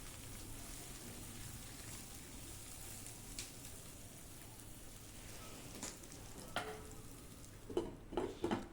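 Raw banana pieces with turmeric and salt fry quietly in a pan, a soft faint sizzle running throughout, with a few light clinks of a utensil near the end.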